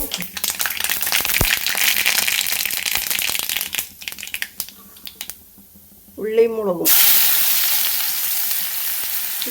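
Crushed shallots sizzle and crackle in hot coconut oil, pausing briefly before a voice is heard and then a loud, steady frying hiss takes over.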